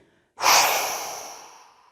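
A single forceful exhale blown hard through the mouth, close and loud, starting abruptly after silence and trailing off into a breathy hiss.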